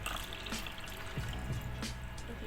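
Water poured into an essential oil diffuser, a soft continuous trickle and splash with small drips, fairly faint and close, with no talking.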